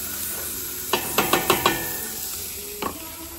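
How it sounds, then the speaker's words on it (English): Celery and onions sauté in hot oil inside a big Dutch-oven-style pot, a steady soft sizzle carrying a burst of quick stirring scrapes near the middle and one more clink toward the end. "We're gonna let those saute until those onions are translucent."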